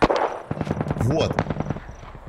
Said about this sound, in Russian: Вон выстрел еще один.